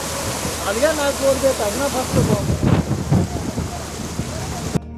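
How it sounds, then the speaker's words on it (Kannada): Heavy rain pours steadily in Davanagere, Karnataka, while thunder rumbles low through the middle; a voice is heard faintly at the start. "ದಾವಣಗೆರೆಯಲ್ಲೂ ಮಳೆ ಅಬ್ಬರ ಜೋರಾಗಿದ್ದು"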